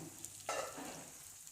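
Green chillies sauté on low flame in a covered pan, giving a faint soft sizzle with a brief louder stir or rattle midway.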